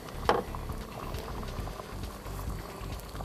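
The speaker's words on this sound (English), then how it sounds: "And our water's ready, boiled away." Water boiling away in a small pot or kettle for espresso at an outdoor camp setup, a steady low bubbling rumble with a brief sharp knock near the start, continuous and fairly close with no talking.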